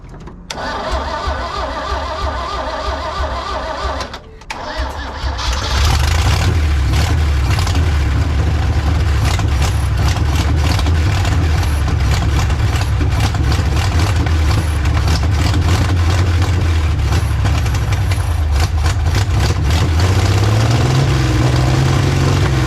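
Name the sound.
old carbureted engine starting with VTOMAN jump starter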